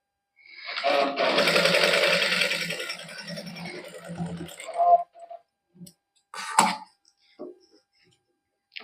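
A sewing machine stitches the neckline of a cotton suit. A loud burst of running stitching lasts about four seconds, followed by a few short clicks and handling noises.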